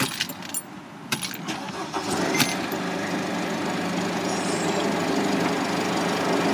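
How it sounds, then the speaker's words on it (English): Mercedes W211 E-Class engine cranks with a few sharp clicks and rattles, then catches into a steady, close idle that holds to the end, with no one talking. "I'll power up the engine."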